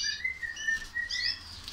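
Giant canaries chirping in a pet shop, a few thin bright whistled notes and short tweets, fairly faint and close, with no talk over them.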